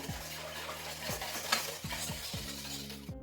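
Milk mixed with yeast is stirred into a batter, making wet swishing and scraping strokes in a bowl with a few rhythmic utensil knocks, fairly close and continuous.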